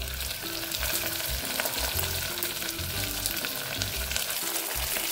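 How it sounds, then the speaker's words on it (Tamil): Long-sliced onions and a little carrot fry in a pan for moong dal ghee rice with a steady, dense sizzle and regular scraping stirs, close by and without speech. "இது வந்து நல்ல கோல்டன் பிரவுன் ஆற வரைக்கும் நான் வணக்கிடுறேன்"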